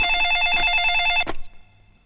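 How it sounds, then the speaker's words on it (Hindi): A telephone rings with a bright repeating electronic bell tone, loud and close, then cuts off abruptly after about a second and a half, leaving quiet. "मुख्यमंत्री बाबूराव जी देशमुख को फोन लगाओ।"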